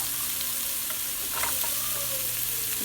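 Green beans and vegetables frying with onions in a pan for paneer fried rice, a close, even hissing sizzle with a few light stirring clicks, no voices.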